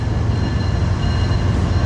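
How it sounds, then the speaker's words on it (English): An inbound Q freight train rolls into a rail yard with a steady, heavy rumble and low mechanical drone. It sounds close and continuous, with no voices. "we have an inbound Q train going into the sitcom yard right now."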